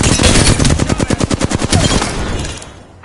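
Close, loud automatic gunfire in a video game firefight, a fast rhythmic string of shots lasting about two seconds before fading out.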